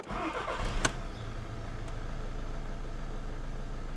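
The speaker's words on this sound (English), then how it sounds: "Now we can actually try and start this car for a first time after the injector change." A car engine, sitting unused for three years and fitted with new injectors, cranks briefly and catches, then settles into a steady low idle that continues alone.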